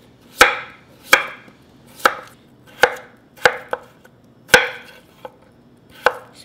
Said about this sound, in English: I will cut it this to match sticks. This. Around 4 inches. And slice thinly.